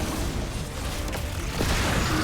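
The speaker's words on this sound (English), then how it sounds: "Those little tangle explosions are just awesome." Tangle explosions in the video game Destiny 2, a dense series of booming, rumbling blasts over a noisy backdrop of constant game sound, with no voice.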